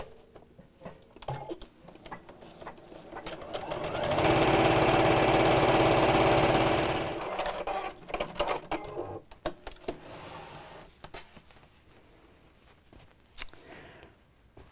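A sewing machine stitches fabric pieces together into a box-shaped drawstring bag, running in one steady, loud whirring burst of a few seconds amid quieter handling and rustling of cloth.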